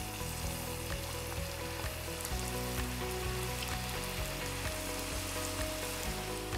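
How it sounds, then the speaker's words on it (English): Meat samosas fry in hot oil with a continuous, dense sizzle and crackle, steady and close throughout with small pops scattered over a low background hum. "So gently dip your samosas into the hot oil."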